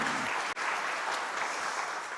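A church congregation applauds its youth group, a dense, even wash of clapping that carries on steadily across the whole short stretch.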